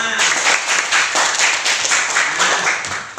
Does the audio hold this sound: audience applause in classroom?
yes